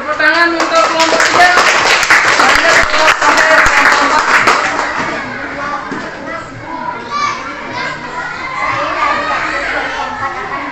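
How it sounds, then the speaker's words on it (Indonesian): A school classroom group gets a round of applause, with dense, lively clapping over the first few seconds mixed with children's excited voices and chatter that continue after the clapping fades. "tepuk tangan untuk kelompok 3"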